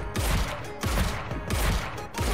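Rapid bursts of gunfire in the game Goddess of Victory: Nikke crackle in loud, repeated volleys, separated by brief pauses, with no voices over them.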